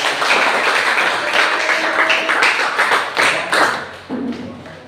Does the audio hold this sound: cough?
no